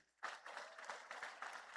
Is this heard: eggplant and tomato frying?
no